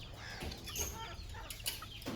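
Chickens on a farm, gathered on a shed roof, give short, faint, scattered clucks and calls, heard at a distance among light outdoor background noise.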